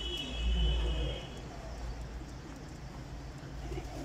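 Sialkoti pigeons give a low, soft coo near the start, then fade into a faint background murmur for the rest of the stretch.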